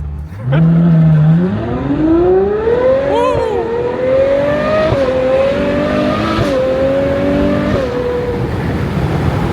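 A supercar engine revs loudly and close by, climbing in a long, steady rise with brief gear-shift dips before holding a high, sustained roar.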